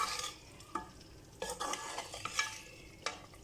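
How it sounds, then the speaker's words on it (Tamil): Beef seasoned with salt, chili powder, garlic, ginger and turmeric fries with curry leaves in a pan, with a soft sizzle under repeated scraping stirs of a utensil against the metal. "கருவேப்பிலை போட்டு நல்லா ஃப்ரை பண்ணிகிட்டு இருக்கோம்"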